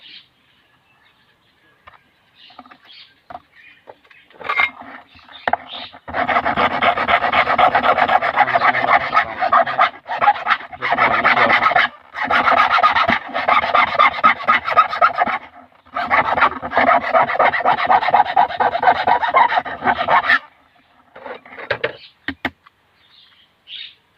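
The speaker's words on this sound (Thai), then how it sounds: "ตอนนี้เราก็ตะไบนิดเดียว" Rhythmic rasping of a file scraping back and forth on a wooden gable panel in several bursts, close and fairly loud, separated by short pauses.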